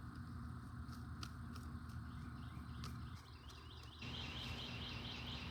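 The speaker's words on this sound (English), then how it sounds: "The birds are singing." Birds sing outdoors as faint, repeated chirps over a steady background hiss, distant and quiet throughout.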